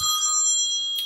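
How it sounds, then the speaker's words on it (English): A cell phone ringtone goes off in a lecture hall during a civil law class, steady bright electronic tones ringing clearly with no talk over them. "Sorry, my cell phone went off."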